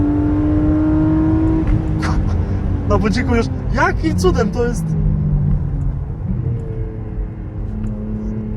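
A BMW M3 E36 engine, rated at 286 horsepower, accelerates while driving through Warsaw, giving a continuous loud rumbling drone with rising revs. Several people talk excitedly over it throughout.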